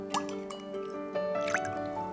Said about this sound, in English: It looks like someone is pouring kind of liquid into a bowl.